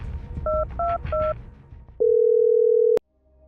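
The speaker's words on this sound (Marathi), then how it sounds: "त्याने कार ड्राईव्ह करता करता सत्यजितला फोन लावला" Three short two-tone keypad beeps, then a loud, steady dial tone that holds for about a second and cuts off abruptly.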